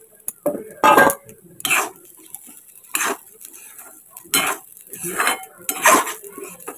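A spoon scrapes and clinks against a pan as rice is fried and stirred in ghee with cardamom for Bengali rice payesh, about eight sharp, uneven strokes over a quiet background, close and fairly loud, with no talking.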